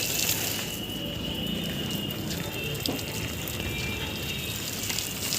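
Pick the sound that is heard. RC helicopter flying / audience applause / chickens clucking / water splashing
water splashing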